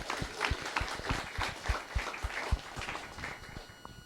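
An audience applauds at an ultra-trail running awards ceremony: a steady, dense patter of clapping that fills the room, with regular low thumps pulsing underneath throughout.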